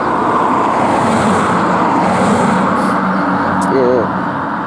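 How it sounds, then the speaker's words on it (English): A car passes on a road in Ravensbourne National Park, Queensland, a loud, continuous roar of engine and tyre noise that stays strong throughout and eases slightly near the end. "There's another car coming."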